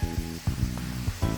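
Shrimp stir-frying in a hot pan give off a close, crackling sizzle broken by short bursts and pops, with no speech over it.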